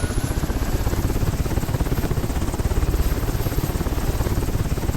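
A helicopter's rotor beats steadily and loudly throughout, a continuous rhythmic chop with engine whine close by, no voices.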